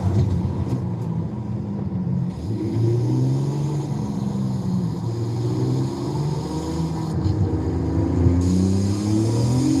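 A car engine pulls hard through a tunnel in Forza Horizon 5, a loud, close, steady roar with rising and falling rev tones and a boomy echo throughout.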